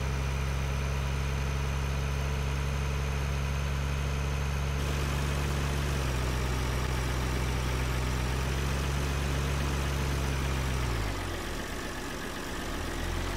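A tractor engine idling and droning in Farming Simulator 2013 while a combine unloads grain, a steady close engine hum with the pitch stepping down twice and easing off near the end, with no voices.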